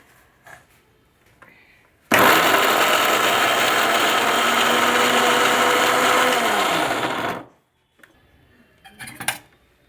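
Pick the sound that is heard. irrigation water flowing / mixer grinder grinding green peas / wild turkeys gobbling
mixer grinder grinding green peas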